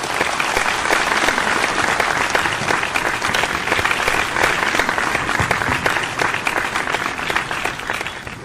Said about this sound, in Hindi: सदस्यों से निवेदन है वे श्री दिनेश जी पाठक का करताल ध्वनि से स्वागत करें।